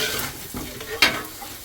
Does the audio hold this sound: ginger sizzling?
yes